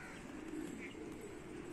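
Pigeons perched on a neighbour's rooftop give soft, steady low cooing, a continuous murmur at moderate distance with faint higher chirps mixed in.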